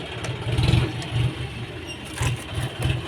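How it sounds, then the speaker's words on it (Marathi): A small tractor engine labours in pulsing bursts as it climbs a slope, its chugging low rumble rising and falling at medium distance without any voices. "आता मी तुम्हाला ट्रॅक्टर चढवून दाखवतो।"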